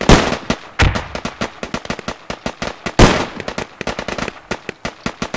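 Rifle shots ring out in the military shooter Squad: a few loud, sharp cracks stand out among a steady stream of quicker, fainter gunshots crackling nearby.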